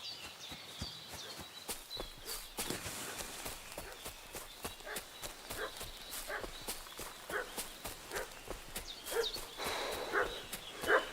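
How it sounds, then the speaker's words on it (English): A dog barks in the medieval game Kingdom Come: Deliverance II, with repeated excited barks over horse hooves clip-clopping and footsteps on the ground, moderately loud and continuous throughout. "What's that dog making such a fuss about?"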